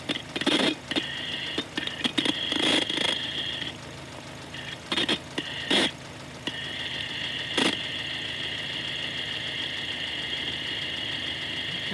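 An engine pulley, heard through an ultrasonic contact probe held on its middle nut, gives a steady mechanical hum, broken at first by sharp clicks and bursts before settling into a continuous whine, close and alone.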